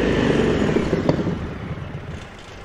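A 2023 Indian Sport Chief motorcycle idles with a low, muffled engine and exhaust rumble, fairly quiet and fading slightly over a couple of seconds.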